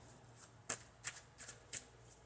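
Tarot cards being shuffled by hand, close and quiet, with four short riffling bursts spread across a soft background hum.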